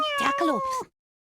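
Two or three quick, high tonal meows from cartoonish cats in The Sims 1 video game, close and clear, in one short burst before silence.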